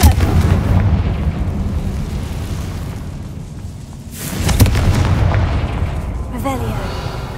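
The Confringo fire spell in Hogwarts Legacy erupts in a loud, booming blast, followed by a heavy rumbling explosion midway and a crackling tail, close and dominant over the game's background.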